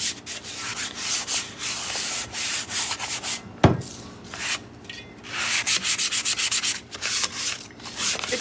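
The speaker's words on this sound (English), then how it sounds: "light sanding." Light hand sanding of the surface of a miniature wooden bench, with a close, steady scratchy rubbing in quick repeated strokes, one brief knock partway through, then rhythmic strokes resuming.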